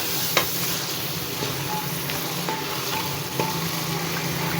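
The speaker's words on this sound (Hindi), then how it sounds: "अब शामिल कर देती हूँ मैं इसमें मटर। इनको भी भून लेते हैं।" Peas fry in masala for matar gosht with a soft, continuous sizzle, broken by a few light scraping clicks as a spoon stirs the pan; no talking.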